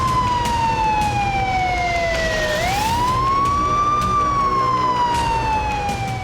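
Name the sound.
ambulance siren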